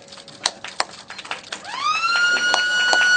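A siren starts up at a police water unit staff office inauguration in Jakarta, rising in pitch and then holding a loud steady wail over a backdrop of scattered claps and crowd noise.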